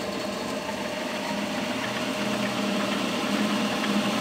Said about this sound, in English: So let's test the generator.